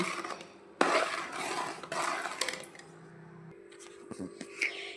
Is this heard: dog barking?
no